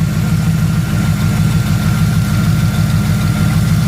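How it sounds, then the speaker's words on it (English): A car engine idles steadily close by with a check engine light on, a loud even low rumble with a fine rhythmic pulse and no voices. "Motor sounds decent"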